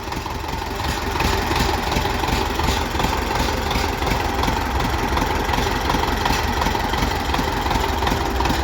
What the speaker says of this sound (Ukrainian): вихлопна брянчить.